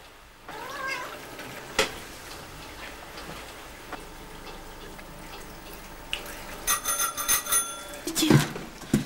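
A house cat meows several times, near and fairly clear, with light ticking and clatter in a quiet room.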